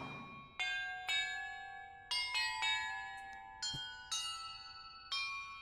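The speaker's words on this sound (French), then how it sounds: "l'ordre dans lequel je dois faire sonner les cloches" Bells in a Hogwarts Legacy puzzle ring out in a sequence of about eight clear, separate strikes at varied pitches, each tone ringing on and decaying before the next, loud and alone.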